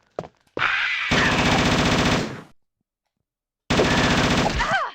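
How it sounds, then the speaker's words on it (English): Gunfire from Resident Evil, dense rapid bursts of loud shots with thick impact thuds, two sustained volleys separated by a silent gap. "Listen to the thick thud when it hits their thorax."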